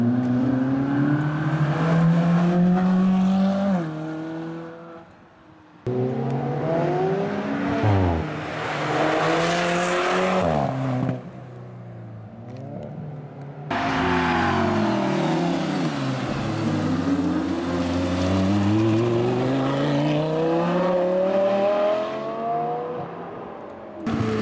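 Fast cars, supercars on a road trip, driving on a mountain road, with loud engines revving and rising in pitch as they accelerate through several passes, tires whirring close by.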